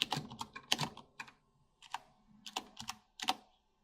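Bursts of keystrokes on a computer keyboard, close and clear, arriving in short irregular clusters separated by brief pauses, with no talking.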